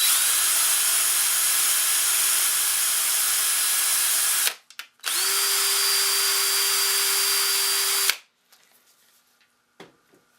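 A power string winder spins a cheap guitar tuner in two long, steady whirring bursts with a short pause between them, loud and close, then falls quiet.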